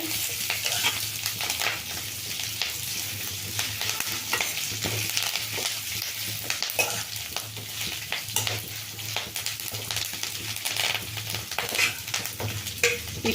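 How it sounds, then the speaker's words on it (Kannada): Curry leaves crackle and fry in oil in a pan while being stirred, a constant bright sizzle heard close, broken by frequent scraping strokes of a spoon against the metal. "ಕರಿಬೇವೆಲ್ಲ ಚೆಂದಾಗಿ ಫ್ರೇ ಆಗಬೇಕು ಗರಿ ಗರಿ ಥರ"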